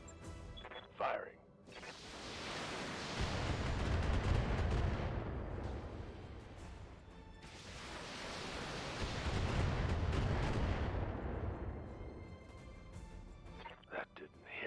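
Mech weapons firing in the BattleTech video game, two long roaring bursts of heavy fire that swell and fade, each lasting several seconds, with brief game voice lines at the start and end.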